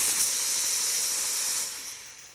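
A home espresso machine's steam wand is purged in one loud, continuous burst of hissing steam that fades out after about two seconds, with no talking.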